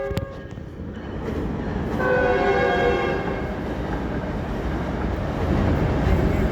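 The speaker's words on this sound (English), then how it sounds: "oh, there's a train, the LA train." A Los Angeles train passes with a loud, sustained horn blast over the rumble of rail cars, heard nearby as the rolling noise swells and holds steady, with no one talking.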